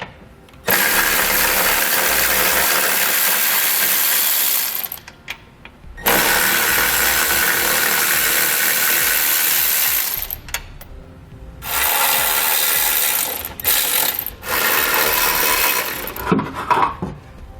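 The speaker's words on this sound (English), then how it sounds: "So we can grab an 18mm socket and pull those out." An 18mm socket on a ratchet backs tow hook bolts out of the frame of a 2018 Nissan Rogue: long, loud, buzzing runs of rapid ratchet clicking separated by short pauses, close up, with no talking.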